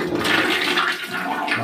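A toilet flushes in the bathroom of a small transient house near Baguio City, a loud, steady rush of water running close by for the whole moment, with no talking.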